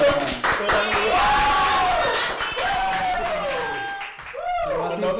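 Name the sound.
clapping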